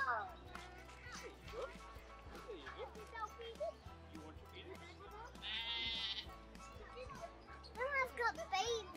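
Sheep bleat at a city farm among chattering children and adult voices, with several short, clear calls rising above the talk.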